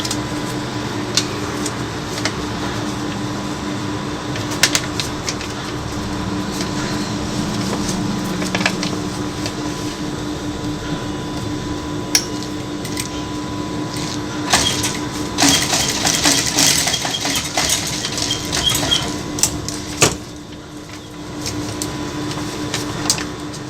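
A sewing machine stitches a dart on a one-piece katori blouse, a steady mechanical whir running continuously for the whole stretch, with occasional clicks and ticks and a brief pause near the end.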